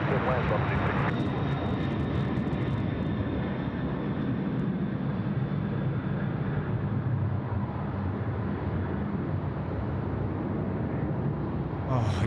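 An airliner landing on runway 34 left at Sydney Airport rumbles steadily as a broad, loud roar throughout, with voices talking over the engine noise.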